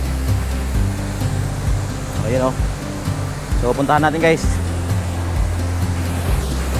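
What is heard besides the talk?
Tuntunan Waterfalls, strong rushing water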